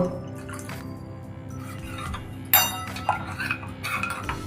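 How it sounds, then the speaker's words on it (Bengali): Turmeric, cumin, red chili and ginger pastes being mixed with a little water in a bowl, with close clinks of a spoon against the dish and small wet drips, sparse at first and then busier. "এবার আমি একটু জল দিয়ে এটা মিশিয়ে নেব"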